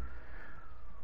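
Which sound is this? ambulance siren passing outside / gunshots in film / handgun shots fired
ambulance siren passing outside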